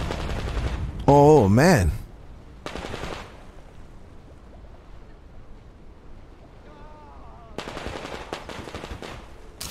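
Bursts of automatic gunfire from a new weapon in the video game Metro Exodus, loud and dense for about a second, followed by scattered quieter shots and a short exclaimed remark from a player.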